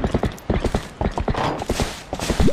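A horse galloping in The Legend of Zelda: Twilight Princess HD, loud close hoofbeats in a fast rolling rhythm that run throughout.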